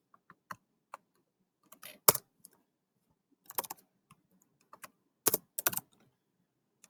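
Numbers are typed on a computer keyboard, a sparse scatter of crisp key clicks with a few quick double taps and pauses between, close up in an otherwise quiet room.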